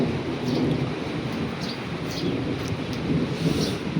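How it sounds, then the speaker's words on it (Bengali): Heavy rain pours steadily outdoors in Bangladesh, a dense, constant roar with a low rumble of thunder rolling underneath, loud and close throughout with no voices. "তো এখানে বহুত বৃষ্টি পড়ছে বাইরে।"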